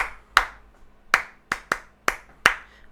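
Sharp hand claps tap out a syncopated funk rhythm, six crisp strikes in an uneven pattern with short gaps between, close and clear with no voices.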